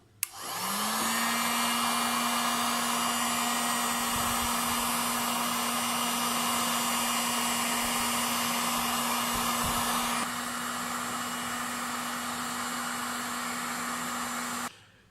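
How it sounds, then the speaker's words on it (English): A heat gun blows steadily while drying a washed action camera casing, a loud continuous whine and airflow hum holding for about fifteen seconds, dropping slightly in tone near the end before cutting off. "Now I'm going to dry this with a heat gun."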